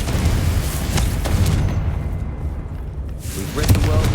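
Confringo fire spell from Hogwarts Legacy: repeated booming magical explosions with crackling bursts, loud and close, one dying into a brief lull before another hits, with talk over parts of the scene.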